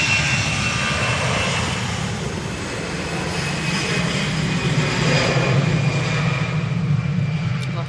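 A jet airliner departs Manchester Airport for Munich, with a loud continuous engine roar and rumble, steady and fairly close, with a thin high whine over it.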